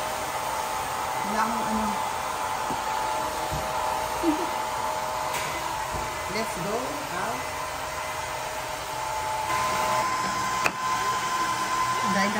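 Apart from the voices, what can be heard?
hair dryer blowing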